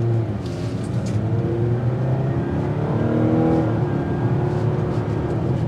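A 2024 Mazda CX-90 PHEV engine pulls steadily under acceleration, a continuous hum with rising harmonic tones, close and fairly loud with no talking.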